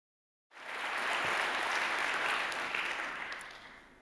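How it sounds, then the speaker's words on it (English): Audience applause at the Edinburgh TV Festival 2018 during a Channel 4 controller session: dense, sustained clapping starts abruptly after a moment of silence, holds steady and loud, then slowly begins to fade. "that round of applause was very encouraging"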